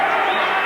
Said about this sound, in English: Listen to the cheers.